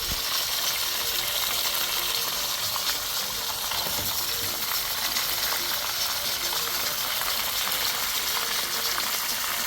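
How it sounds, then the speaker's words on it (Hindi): Pieces of fish fry in a pan with a steady, dense hiss of sizzling oil that stays loud and even throughout, with no voices over it. "हम हर साइड उसकी तसल्ली से बार बार फ्राई करें"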